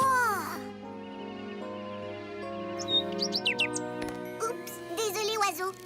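A cartoon bird chirps and tweets in quick, bright bursts over a sustained musical score, with a few other playful sound effects, moderately loud and close.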